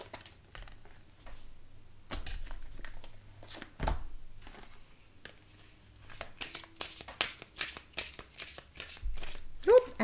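A deck of oracle cards being shuffled by hand, with repeated riffling bursts and soft flicks that grow denser toward the end, close and fairly quiet with brief pauses between passes.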